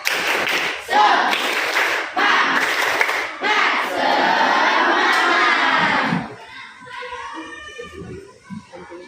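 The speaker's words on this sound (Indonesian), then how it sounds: "Sekali lagi tepuk semangat." Schoolchildren in Indonesia at a morning class greeting do a rhythmic spirit clap, loud group claps and thumps mixed with children's shouts, then a sudden drop to quieter scattered chatter and a few taps.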